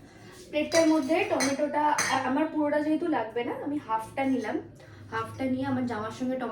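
Plates and dishes clink and clatter over a kitchen counter, with speech heard alongside the handling sounds.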